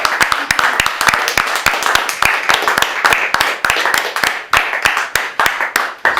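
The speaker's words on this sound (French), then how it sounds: "Vous mais permettez que je vous applaudisse. Merci, il faut applaudir toute l'équipe" A film crew applauds at the end of a shoot on a French production, with many sharp, irregular hand claps packed close together and a few voices mixed in.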